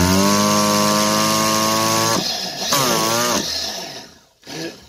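A nitro-powered RC engine on a starter bench runs with a loud, buzzing, harmonic-rich whine, then sputters and cuts out in stuttering bursts before a brief last rev.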